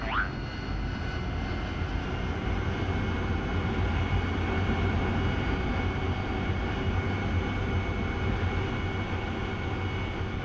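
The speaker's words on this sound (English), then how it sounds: "You are cleared for takeoff when ready." A jet aircraft in the DCS World flight simulator takes off with a steady, loud engine roar and a high whine. The sound holds constant and fills the whole stretch with no talk over it.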